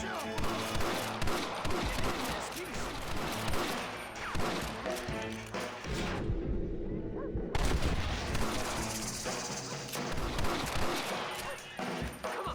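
Gunfire in the video game Red Dead Redemption, rapid volleys of shots from several guns cracking over a chaotic battle, with a short lull in the middle before the shooting resumes; voices are heard among the shots.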